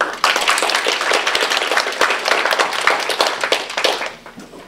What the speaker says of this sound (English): So everyone please, a round of applause for Professor Rajadan.